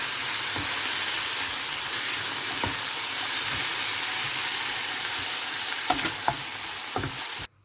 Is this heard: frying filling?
yes